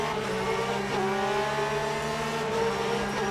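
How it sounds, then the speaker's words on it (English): Several race cars run close alongside in Le Mans Ultimate, engines droning loudly and continuously with overlapping tones shifting in pitch as they jostle for position. "sound of other cars next to me"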